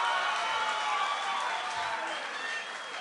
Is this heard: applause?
yes